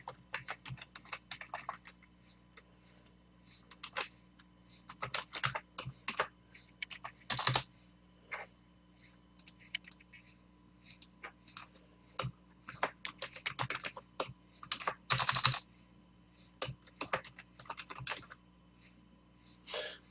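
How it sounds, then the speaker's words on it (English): Typing on a computer keyboard, with close, irregular bursts of key clicks and a few louder strikes over about twenty seconds against a faint steady hum. "This is the last time I'm going to have to type all this out."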